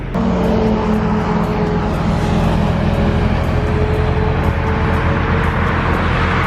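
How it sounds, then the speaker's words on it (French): Cars passing on a huge avenue near the Brandenburg Gate in Berlin, a loud, continuous roar of traffic from all directions with engines swelling and overlapping, and no one talking. "Il y a des voitures qui passent, de tous les côtés."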